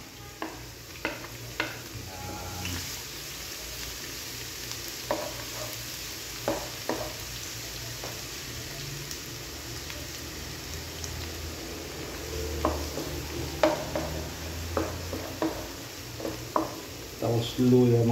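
Garlic sizzles in hot oil in a pan while being stirred, a steady frying hiss broken by repeated scraping and clinking strokes of a utensil against the pan, close and moderately loud.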